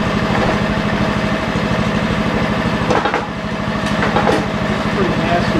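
A forty-year-old Lincoln Weldanpower 150 welder generator engine runs steadily nearby with a rapid, even chugging beat, loud and constant, while a person talks over it.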